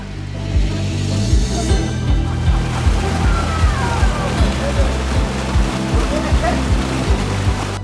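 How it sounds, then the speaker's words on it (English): A thundering waterfall in Little Santa Anita Canyon drops 40 feet into a knee-deep pool, making a steady, loud, close roar of rushing water with a regular series of low thumps running underneath. "a thundering waterfall plunging 40 feet into a knee-deep pool"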